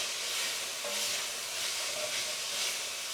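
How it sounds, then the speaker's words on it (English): Beef mince browning in a hot pan for chilli con carne, giving a steady, close-up sizzle and hiss that carries on unbroken with no talking. "what we're looking for is to brown this mince off rather than just stew it"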